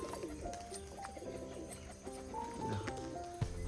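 Domestic pigeons cooing in a loft as a flock is let out one by one, soft repeated coos layered together with steady background rumble and no talking.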